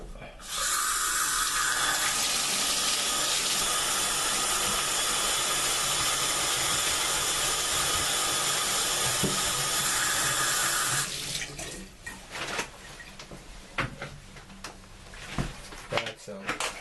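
Water gushing from a tap into a plastic bug sprayer tank, a loud steady hiss and splash for about eleven seconds, then stopping, followed by clicks and handling noises of the sprayer.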